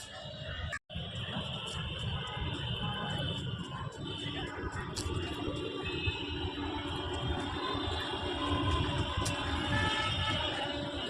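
A train rumbles steadily near Patna railway station, heard from a park across the way, a continuous loud wash of rail noise with faint scattered higher sounds.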